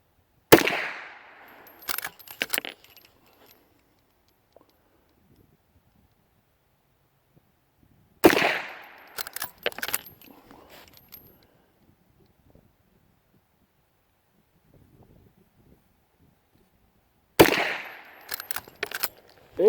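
Three sharp gunshots ring out from an old, used Henry Mare's Leg lever-action rifle in .22 Magnum, spaced several seconds apart outdoors. Each report is followed by fainter clicks and clacks as the lever is worked, with light wind noise in the background.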